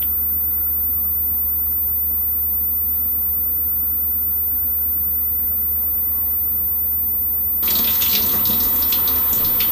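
Water from a shower or tap starts suddenly near the end, a loud broadband rush that follows a long stretch of low hum and quiet room tone.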